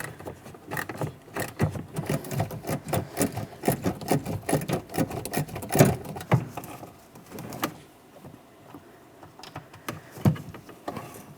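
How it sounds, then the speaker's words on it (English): An 8mm ratchet loosens the mounting bolts of a Jeep Patriot's rear door handle, giving rapid close clicking and rasping bursts in uneven runs with short pauses between them. "Just trying to use my pick to hold that ratchet for me while I continue on loosening these mounting bolts."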